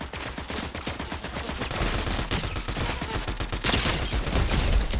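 Rapid gunfire in the video game Fortnite, dense overlapping shots and bursts crackling continuously throughout, loud and close with some heavier blasts near the end.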